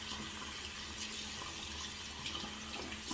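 A Rex Envoy safety razor is rinsed under a running bathroom tap, a soft, steady stream of water splashing for a few seconds without any talk.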